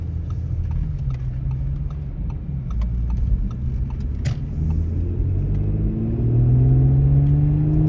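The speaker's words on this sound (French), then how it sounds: "Audi S5, 3 litres, V6, turbo." An Audi S5 with a 3-litre turbo V6 on summer tyres pulls away on a clear road, its low engine rumble rising in pitch as it accelerates through the gears, loud and close with no talk.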